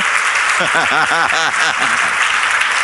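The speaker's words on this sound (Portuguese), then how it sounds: "Ô, gente, vamos aplaudir" Church congregation at a Sunday service applauding a member who won a quiz prize: loud, close clapping throughout, with a brief stretch of voices cheering or calling out over it midway.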